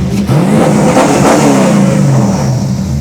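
A car engine revs hard and loud, roaring steadily up close with crackling bursts through the exhaust.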